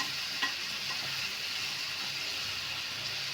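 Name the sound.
prawns being stirred and fried in a pan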